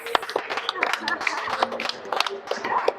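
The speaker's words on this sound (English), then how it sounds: "Clap it up." A crowd claps for a punk rock band after a live set, a dense patter of hands with scattered shouts, fairly close, while voices talk over it.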